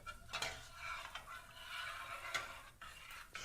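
A spoon stirs milk in a pot for yogurt, making quiet, repeated scraping and swishing strokes against the metal, close by and without talk.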